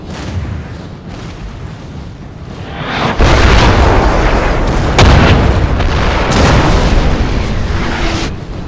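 Artillery cannons fire during a Napoleonic battle on Gent farmland in the Napoleon: Total War game with the Darthmod mod, a loud rolling barrage of deep booms and blasts over a continuous battlefield roar.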